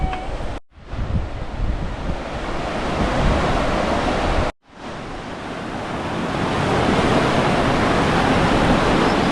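Surf on Laxmanpur beach No. 2 on Neil Island, India, roars as a loud, continuous wash of breaking waves mixed with heavy wind buffeting, cut by two brief dropouts.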